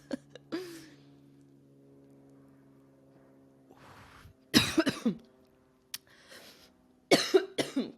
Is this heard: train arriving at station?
no